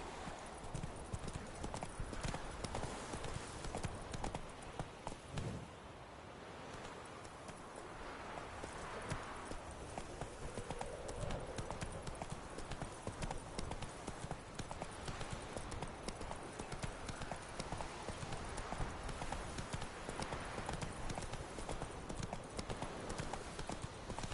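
Hoofbeats from the horse Roach in The Witcher video game clip-clop steadily at a brisk pace, loud and continuous under a dense layer of wind and game ambience.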